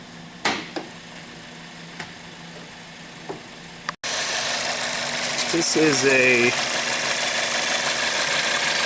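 A CZT 1.4-litre turbo car engine idling with the hood open, its steady, loud hum starting abruptly partway through and running continuously while someone speaks briefly.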